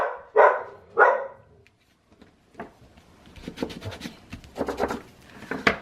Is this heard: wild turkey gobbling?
no